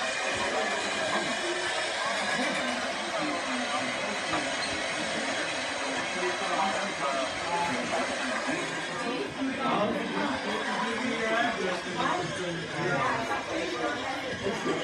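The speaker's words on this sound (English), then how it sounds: "that's a long train" A long train rolls past steadily for the whole stretch with a continuous rumble and hiss and faint rhythmic clatter, while people chat nearby.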